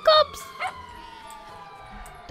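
A dog in the video game GTA V gives a sharp yip and then a long, falling whimper, close and fairly loud, with a second short yelp at the end.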